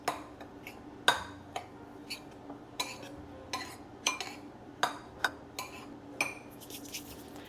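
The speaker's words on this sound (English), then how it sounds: "you're just going to want to stir those up until they're all really well incorporated" Spoon clinking against a bowl while stirring flax meal and nutritional yeast for oil-free, dairy-free sweet potato cornbread, a steady series of light, close taps and scrapes repeating about once a second.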